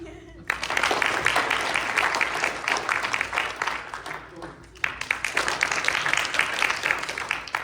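Family night audience claps to vote for a winner, a loud, dense burst of clapping that breaks off briefly midway and then resumes just as strongly.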